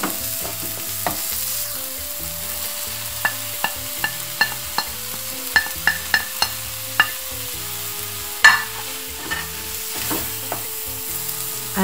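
Vegetables stirred with a spoonful of olive oil in a pan, a steady low sizzle under a background musical tone, punctuated by a series of sharp spoon clicks and scrapes against the pan, all close and fairly quiet.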